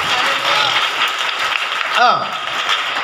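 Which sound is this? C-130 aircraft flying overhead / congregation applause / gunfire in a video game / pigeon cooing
congregation applause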